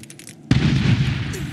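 A grenade blast in the Medal of Honor (2010) shooter game bursts in halfway through as one sudden loud boom, then rolls on in a dense, rumbling roar with gunfire-like crackle and no talk.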